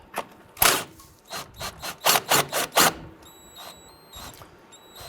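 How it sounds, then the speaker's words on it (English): A 21mm socket on a ratchet loosening the upper control arm bolts on a 1994-2004 Ford Mustang, heard as a quick run of about six sharp ratcheting clicks up close, followed by faint metallic handling and no talk. "We're now going to go ahead and remove our upper bolts."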